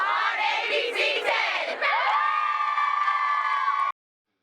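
High school cheerleaders of the Cosumnes Oaks Wolfpack shout and cheer in unison at a Friday night football playoff game, a loud sustained group chant that rises and then holds a long final note before cutting off.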